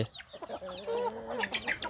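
Yellow chickens with white tails, kept for breed conservation on a home farm, give a close run of soft clucks and throaty calls, fairly loud, with no talking.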